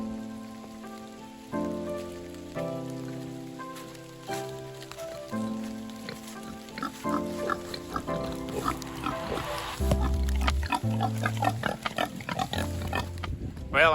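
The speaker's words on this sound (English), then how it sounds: "We're gonna run to the pig nursery and see how well they have it over there." Pigs grunt and shuffle inside a farm pig nursery, scattered close snorts and oinks over a steady patter like rain on a roof, with a brief low voice.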